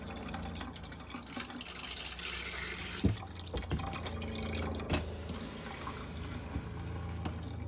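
Liquid poured into a drain in a camper sink, with a steady wet gurgling wash and a few louder splashes and clunks, close and moderately quiet.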